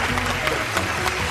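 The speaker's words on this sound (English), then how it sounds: "Give yourself a round of applause." Audience applause on a game show, a steady wash of clapping with light crowd noise throughout.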